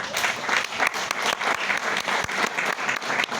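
A crowd claps steadily and continuously, a dense patter of many hands at moderate distance, with no voices standing out.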